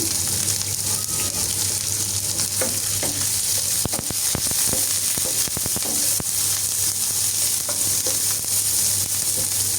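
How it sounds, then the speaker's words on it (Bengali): Malabar spinach frying in oil with crushed garlic and onion in a pan, giving a constant loud sizzle with scattered stirring scrapes and clicks throughout and no talking. "তেল দিয়ে একটু ভালোভাবে নেড়ে চেড়ে ভেজে নিচ্ছি"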